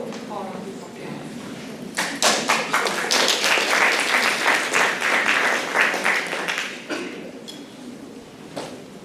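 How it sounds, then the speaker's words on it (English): A panel session audience at a public health conference breaks into applause for a speaker. A few scattered claps build into a dense round, which then thins out, with talk around it. "Please give her a big applause."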